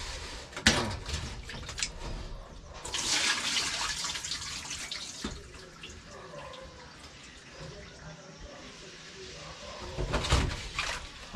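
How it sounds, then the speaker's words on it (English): Tap water runs intermittently while raw chicken is rinsed in a kitchen sink, with louder gushes of water near the start and end, quieter handling sounds between, and soft room noise. "I'm gonna get it first rinse off"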